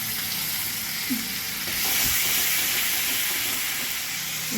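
Ground spices with ginger-chilli paste frying on a low flame in a pan, a steady close sizzle and hiss with faint stirring scrapes now and then, no voices over it.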